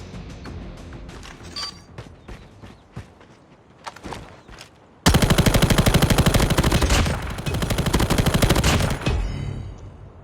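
Light machine gun fire in the mobile shooter Call of Duty Mobile, scattered shots and footsteps giving way to a loud, sustained rapid burst of automatic fire that runs for several seconds before easing off.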